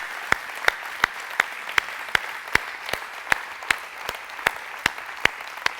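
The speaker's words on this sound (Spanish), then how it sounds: "Denle un aplauso al Señor." A church congregation clapping in rhythm during a sermon, sharp regular claps roughly every third of a second over a soft bed of crowd noise, steady and fairly close throughout.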